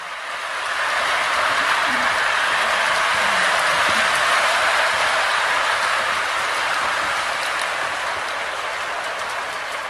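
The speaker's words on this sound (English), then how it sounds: "Here we pick up the C&O locomotive as it emerges from the tunnel." A model railroad C&O locomotive rolling out of a tunnel: a steady, even rushing hiss that swells in after the first second and holds at a constant level throughout.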